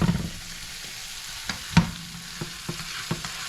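Garlic sizzles softly in a hot pan for honey garlic wings, a faint steady frying hiss broken by a few scattered taps and scrapes of a utensil stirring against the pan.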